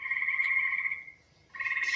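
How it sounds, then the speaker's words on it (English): Gray tree frog giving a sustained musical trill, a short pause, then the trill resuming, clear and close with no other sounds. "Even during the day, you can hear this sometimes, a little trill of the gray tree frog."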